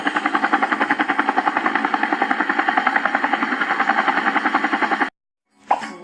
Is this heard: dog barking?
no